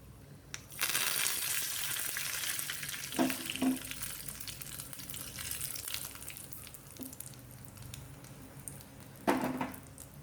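Two red chillies and curry leaves frying in oil for a ripe mango pulissery curry make a continuous close sizzle, broken by a few sharp clatters of stirring and a brief louder burst near the end.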